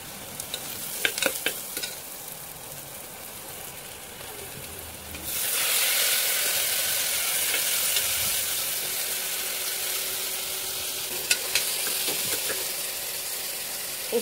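Onions sauté in a pan for chicken curry. A few utensil scrapes and stirring clicks come first, then a loud, steady hiss and sizzle sets in and continues to the end, broken by occasional stirring taps.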